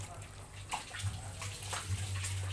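Water splashes and trickles as grated coconut is squeezed with a little water, a steady wet gurgling with a low hum beneath.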